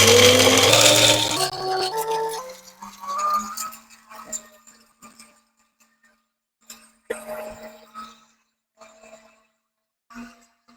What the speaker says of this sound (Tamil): மிளகு சீரகம் சோம்பு வறுத்து வச்சுருக்கோம் இப்போ அதை நம்ம அரைக்க போகிறோம்